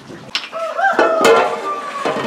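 Chickens clucking with a rooster's crow rising clearly above them, a short, bright, drawn-out call lasting about a second and a half, close and fairly loud.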